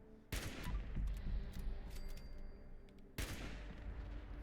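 Two sniper rifle shots in the video game Fallout 76, each a sudden loud crack with a booming tail, spaced about three seconds apart over a low ambient hum.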